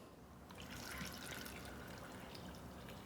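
Water is poured into a pot of butternut squash soup, a soft, steady splashing trickle that runs continuously, close but quiet.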